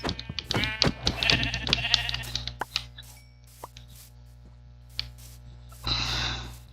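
Sheep in Minecraft, several sharp bleats and soft plopping hits in quick succession up front, then a quieter stretch and one more burst of bleating near the end, loud and close.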